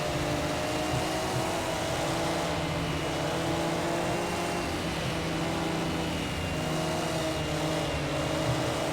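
Race car engine holding a steady third-gear drone on the Bathurst circuit in Project CARS 2, with a classic touring car droning loud and continuous, sustained harmonics steady throughout, other cars faintly mixed in.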